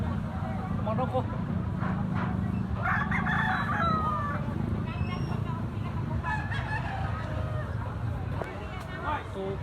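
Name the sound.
Kelso bloodline rooster crowing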